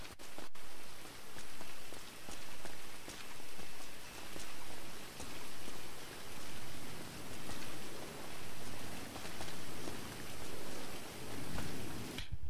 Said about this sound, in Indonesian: semoga hujannya berhenti ya Tuhan